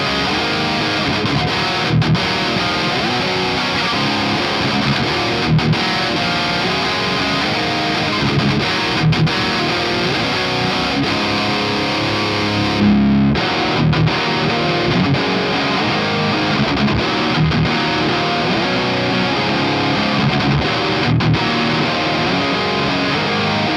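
A Lichtlaerm Audio Prometheus guitar amp plays heavy crunch tones, a dense distorted electric guitar riff that runs unbroken for about twenty-four seconds with palm-muted chugs and brief pauses, loud and upfront with no talking.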